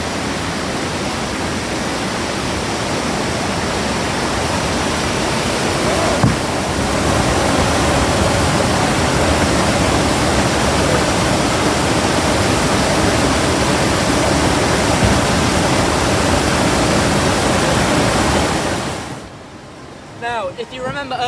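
Loud, steady roar of rushing water at a dam controlling the level for a water wheel at Chatham Dockyard in Kent. The broadband torrent fills nearly the whole stretch, then drops away sharply near the end.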